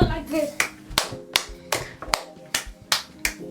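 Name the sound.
child making hollow cupped-hand clap, kuridza gusvu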